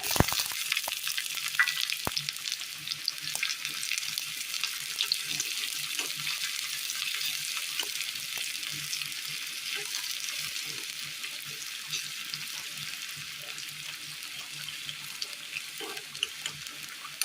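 Chopped shallots fry in hot oil with popping mustard seeds, a continuous crackling sizzle dotted with small pops throughout, close and fairly steady.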